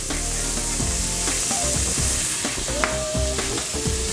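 Vegetables sweat in a hot pan with salt, pepper and poultry seasoning, giving a steady close-up sizzle, with scattered scrapes and knocks from stirring.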